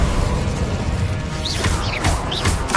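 An Incendio fire spell is cast in Hogwarts Legacy, a rushing whoosh and crackling burst over constant game noise, with a few brief swishing accents in the middle.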